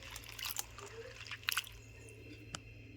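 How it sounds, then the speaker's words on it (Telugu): Soaked cluster beans are washed by hand in water, giving quiet, close sloshes and squishy drips in a few short bursts against a low background hum. "ఇలా వాటర్లో నానేసి మొత్తాన్ని ఇలాగో శుభ్రంగా కడిగేసుకోవాలండి"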